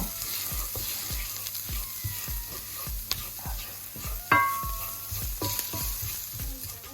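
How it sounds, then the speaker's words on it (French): Ground coriander and curry paste roast and sizzle in a pan for red lentil dahl, with steady frying hiss and a regular rhythm of spoon scrapes, plus one sharper metallic clink midway. "On laisse rôtir un peu les épices."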